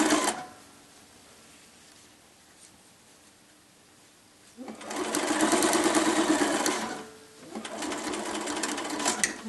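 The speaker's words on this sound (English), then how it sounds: "before I stitch across that part" A sewing machine stitches binding across quilt edge tabs through several layers, running in two close, steady bursts of rapid stitching separated by a short pause, with quiet handling before.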